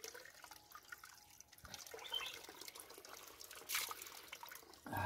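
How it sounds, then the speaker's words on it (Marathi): Clean, cold spring water flows and trickles from a natural source beside a Konkan village, a faint, steady liquid patter with occasional drips and no voices. "इथे हे पाणी, स्वच्छ पाणी, पिण्याचं पाणी वाहत असतं"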